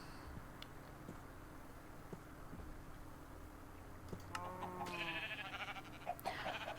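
Sheep bleat in the Minecraft modpack FTB OceanBlock, several short, clear game-style calls coming in quick succession near the end over quiet background sounds.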